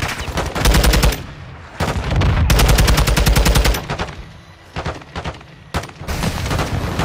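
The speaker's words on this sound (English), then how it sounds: "Weapons hot for gun run." Aircraft gun run strafing in Modern Warfare 2: long, loud bursts of rapid heavy cannon fire in rolling waves, separated by short lulls and ending in scattered shorter volleys.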